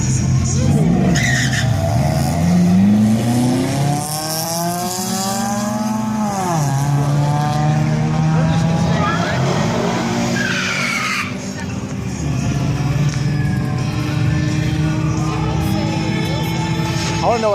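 Race cars at a drag race, loud engines revving and accelerating with rising and falling tones and tire squeal, close and continuous, with people talking over them.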